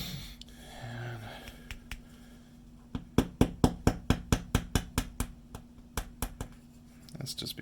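A small hammer taps laser-cut robot earring parts in a quick run of about a dozen sharp, evenly spaced strikes. A few scattered taps and handling noises come before the run, and a few more follow it.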